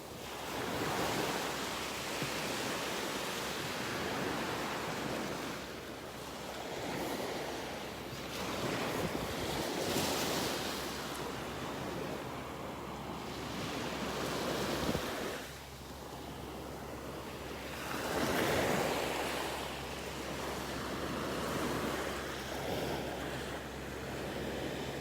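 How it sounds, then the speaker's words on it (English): Small ocean waves wash onto a beach in North Naples, Florida under an overcast sky, a continuous close surf hiss with gentle periodic swells, mixed with wind buffeting the microphone. "Love the sounds of these little waves here."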